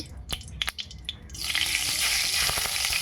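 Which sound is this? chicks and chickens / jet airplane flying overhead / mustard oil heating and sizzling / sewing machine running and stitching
mustard oil heating and sizzling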